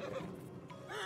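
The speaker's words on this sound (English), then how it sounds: "Marston, you're gonna tether him up to Javier's horse." Horse whinnying in the Red Dead Redemption 2 video game, a single fairly close neigh lasting about a second with a rising squeal near its end, heard alone without talk.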